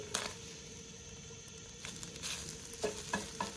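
Food sizzles and fries on a restored propane camp stove outdoors, a steady close crackle with a few sharper pops and spatters near the end.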